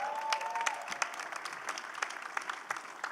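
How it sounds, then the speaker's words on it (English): A live comedy show audience applauds in a steady crackle of many hands clapping, heard at a distance and fairly faint, with a brief thin tone at the start. "let's give him a round of applause"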